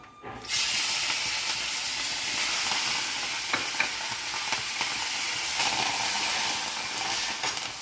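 Curry leaves hit hot oil in a pan and burst into a loud, steady sizzle that begins abruptly and keeps crackling close up, with faint stirring clicks now and then.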